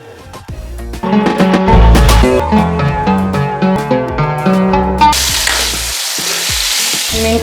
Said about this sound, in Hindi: हम इसमें आलू ऐड कर देते हैं।